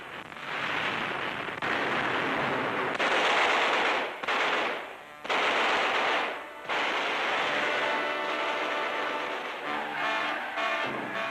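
Artillery and gunfire of the British 8th Army in a 1943 WWII newsreel: loud, dense machine-gun rattle and blasts roar almost without pause, with only brief dips.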